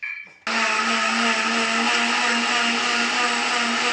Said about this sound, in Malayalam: ഒരു അടി കൂടി അടിച്ചു നല്ലോണം ഒന്ന് ജ്യൂസ് ആട്ടെ